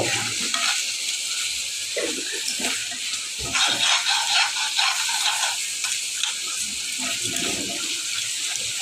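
Dried fish (shutki) frying in a pan while being stirred, a loud steady sizzle with scraping and clattering stirs throughout, close up.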